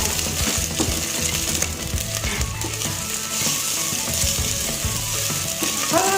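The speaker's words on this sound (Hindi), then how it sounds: "थोड़ी सी अदरक, ये अदरक हाफ इंच है, इससे ज़्यादा नहीं है। सौते कर देते हैं हल्का सा।" Half an inch of ginger is sautéed in a pan, giving a steady close sizzle and frying hiss with occasional scraping and stirring clinks, no talking.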